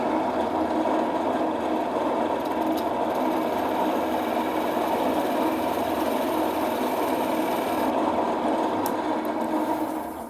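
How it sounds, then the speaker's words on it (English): Skew chisel taking a planing cut on a spinning-top blank on a wood lathe: a steady, continuous whirring hiss of the turning wood and cutting edge, loud and unbroken, easing off at the very end. "I usually come in and I use my skew chisel"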